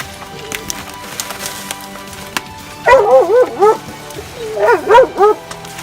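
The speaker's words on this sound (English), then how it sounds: "look at the little doggy" A small dog barks and whimpers up close in a run of high yips and whines, two bursts separated by a quieter pause.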